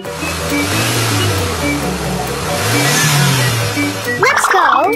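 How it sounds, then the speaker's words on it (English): A cartoon car engine revs in low rising and falling sweeps over a loud rushing whoosh, and a quick chirpy voice-like sound bursts in near the end. "car."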